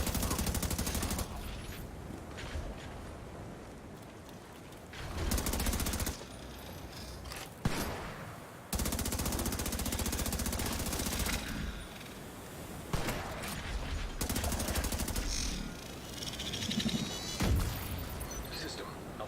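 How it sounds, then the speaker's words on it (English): Gunfire in The Division 2, repeated bursts of rapid automatic shots with sharp cracks separated by short pauses, loud and close, with mechanical clatter and someone talking between volleys. "Guess I'll shoot him again."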